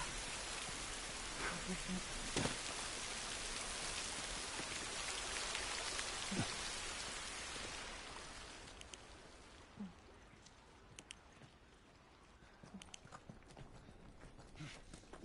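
Steady rain hisses across the opening stretch of The Last of Us Part 1, then thins out as if moving under shelter, leaving scattered drips and taps while a voice speaks briefly.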